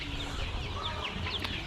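Chickens clucking on a poultry farm in Addis Ababa, a dense continuous flock murmur with scattered brief calls, steady and fairly close, with no talking.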